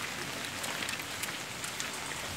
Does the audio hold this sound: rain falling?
yes